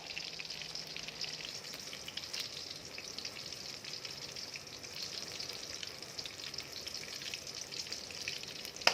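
Thai fish cakes made from silver barb fish frying in oil, a faint, even, continuous crackling sizzle with scattered pops throughout.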